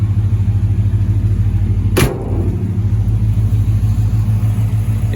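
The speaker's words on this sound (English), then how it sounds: "Exhaust sounds decent." A 1949 GMC 100 pickup's small-block Chevy V8 exhaust rumbles at a steady idle, close and loud, with a brief sharp click partway through.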